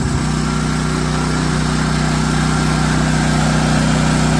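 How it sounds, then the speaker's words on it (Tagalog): A Philking PK1700 generator runs steadily after starting, its engine putting out a loud, constant, close mechanical hum and buzz with no pauses. "Testing natin yung ating generator. Buhayin natin."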